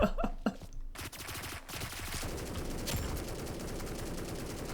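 A PKM light machine gun fires in the video game BRM5, with sustained rapid automatic bursts after a few opening shots, loud and close.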